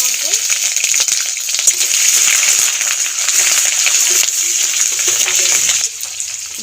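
A spice tempering with bay leaf and ginger paste sizzles in hot oil, a bright continuous crackle with faint scattered clinks throughout and no talking.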